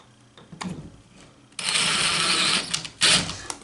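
A cordless impact driver drives a screw into drywall during a small hole repair, a loud grinding, rattling burst from about 1.6 seconds that pauses briefly and then surges again, preceded by quieter handling noise.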